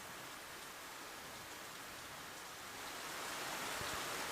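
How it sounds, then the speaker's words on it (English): Steady rain falls in a dense, even wash of noise that grows slightly louder toward the end, with no voices. "Saya looks down and speaks so softly that I can barely hear her through the rain."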